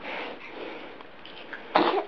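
A child sneezes once near the end, a short sharp burst standing out above faint background murmur in a quiet indoor room.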